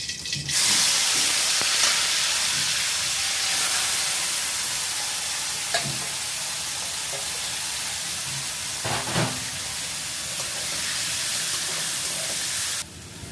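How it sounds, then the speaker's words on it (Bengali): Potatoes and bitter gourd coated in turmeric, salt and chilli powder fry in a pan, giving a steady close sizzle and hiss for the whole stretch, with a few brief clinks and stirs near the middle. "আলু আর করলাটাকে আমি হলুদ লবণ মরিচের গুঁড়ো দিয়ে মেখে নিছি, এখন ভাজি করব।"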